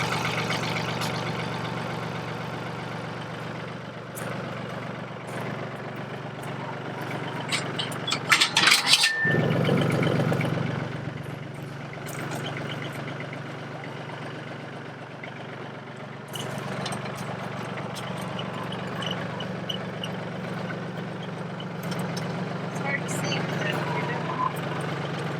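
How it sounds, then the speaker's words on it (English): A Yanmar T235 compact tractor engine idles steadily with a low, even drone throughout, close by, with a brief clatter partway through and faint background noise. "Before we got this Yanmar tractor"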